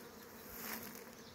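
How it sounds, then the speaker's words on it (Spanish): Honey bees buzz around apiary hives after a honey harvest, a dense, steady hum close by with no voices. "seguimos recorriendo otros apiarios para mostrarles el movimiento que hay en las colmenas."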